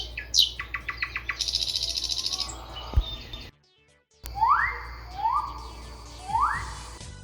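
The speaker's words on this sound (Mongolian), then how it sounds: "шувуу 3 удаа жиргсэн байна" Bird chirps three times in clear, bright rising calls after earlier quick trills and a brief silence, close and distinct against a quiet background.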